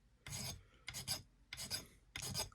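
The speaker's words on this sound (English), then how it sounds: "Let's see how easy this files off. Yeah, it's going to file right off." Four loud, close rasping strokes of a file cutting into a cedar seater stem, evenly spaced with short pauses between them and no talk.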